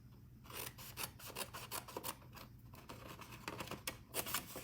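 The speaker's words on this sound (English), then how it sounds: "I'm going to cut off these 2 sections here" Scissors or a paper trimmer cut sections off sheets of card, giving a run of quick crisp snips and rasping cuts with small pauses. It is close and fairly quiet, with no speech.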